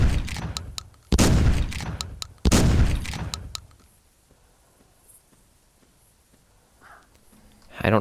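Rifle fire in the hunting video game Carnivores Fallen Kings: two or three loud, close booming shots in the first few seconds, then quieter game ambience with faint footsteps and a soft rustle near the end.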